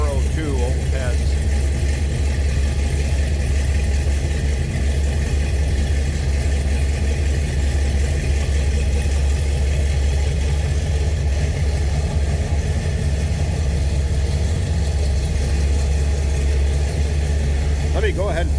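A 1972 Chevrolet Chevelle's 396 V8 idles with a deep, steady rumble throughout, loud and close, with a faint voice talking underneath.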